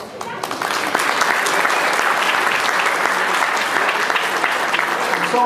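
Wedding guests at a reception applaud loudly, a dense, steady wash of many hands clapping close by that rises quickly and holds strong throughout.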